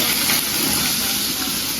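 Loud, continuous hissing sizzle of cauliflower frying in hot oil, close and steady throughout.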